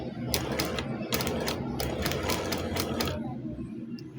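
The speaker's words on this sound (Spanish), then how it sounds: "Sostengo así con el dedo y voy cosiendo" A sewing machine stitching satin for a scrunchie, running in rhythmic bursts of rapid needle chatter with brief pauses, close and fairly loud.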